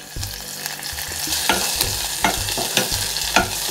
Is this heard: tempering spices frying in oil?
yes